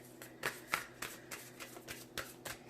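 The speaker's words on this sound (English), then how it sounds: "I'm going to cut the deck, I think" Tarot cards are cut and handled by hand, making a series of soft papery taps and riffles, irregular and close, with quiet room tone between them.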